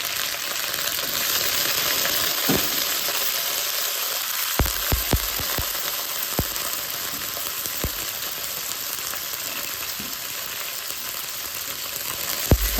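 Pak choi dropped into hot oil in a pan for a noodle dinner, giving a loud, steady sizzle throughout with occasional sharp clicks and pops, close and with no talk over it.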